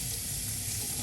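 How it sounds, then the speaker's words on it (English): Running tap water splashing into a sink as a safety razor is rinsed, a steady close hiss and spatter that fills the whole moment without any talk. "Let's rinse that."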